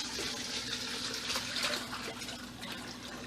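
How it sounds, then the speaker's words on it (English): Brining liquid poured over a whole chicken, a steady continuous splash and trickle of liquid lasting a few seconds, close and fairly loud, with no talking. "We're just going to pour it over the chicken."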